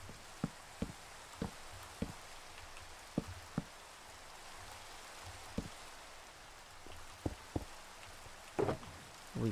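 Rain falls in the Minecraft video game as a steady soft hiss, with scattered sharp drop-like ticks at irregular intervals, faint and with no talk.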